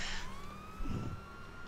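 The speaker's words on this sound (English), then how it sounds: "The sirens went on. There's something going down nearby." A police siren in a video game wails with a rising and sliding tone, fairly faint, with a short low rumble partway through.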